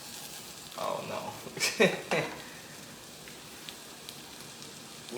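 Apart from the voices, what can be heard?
food frying in a hot pan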